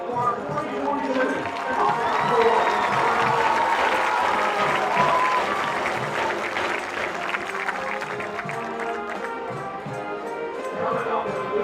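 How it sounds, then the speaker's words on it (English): A stadium crowd at a high school homecoming football game claps and cheers during an honoree introduction, a broad sustained roar of applause with distant public-address talk mixed in. "Ladies and gentlemen, please join me in a round of applause"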